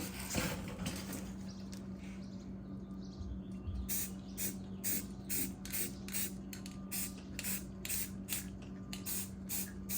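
An aerosol can sprays black paint onto a Silverado's chrome exhaust tips: a continuous close hiss that breaks into a rapid series of short, evenly spaced bursts.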